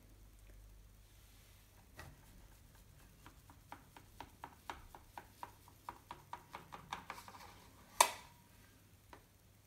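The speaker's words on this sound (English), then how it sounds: "So I will cut all the slices down." A knife slicing a double-baked cake loaf into rusk slices, a quiet run of regular crisp cuts speeding up through the middle, ending in one louder knock.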